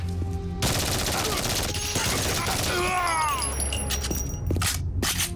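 Dense automatic gunfire and fusillade bursts in the video game Code of Honor 2, loud and close, continuous rapid shots over several seconds with some whizzing sounds and faint talk mixed in.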